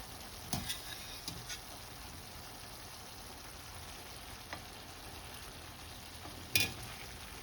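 Sömelek köfte meatballs simmer in sauce with a faint, quiet bubbling and a few soft clicks and taps of a utensil against the pan.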